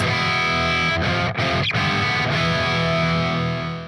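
A distorted electric guitar riff on the high two strings rings out sustained, bright high notes, with brief gaps and chord changes, loud and alone without any talking.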